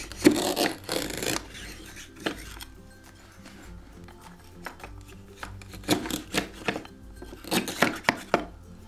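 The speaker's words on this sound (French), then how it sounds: "Et avant de la livrer, on va aussi la découper." A toy cutter rasps across a wooden toy pizza in a pretend wood-fired pizza kitchen, giving scratchy, irregular bursts: a long scrape at the start and a run of shorter strokes near the end, with quiet clicks in between.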